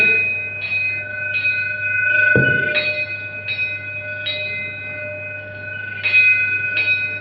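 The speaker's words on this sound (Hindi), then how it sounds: "वहां की जो साउंड है घंटी की, उसको रिकॉर्ड करके इसमें डाला गया है" Repeated bell strikes ring at a steady pace over a constant low hum, each with a bright metallic tone, with one louder clattering hit midway.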